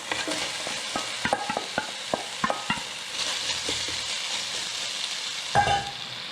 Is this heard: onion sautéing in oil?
yes